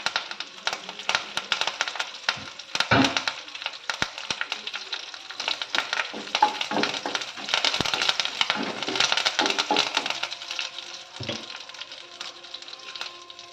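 Mustard seeds, spices and curry leaves crackle and sizzle in hot oil for a tempering, a busy stream of sharp pops and hissing with bursts of louder spluttering, close and without voices.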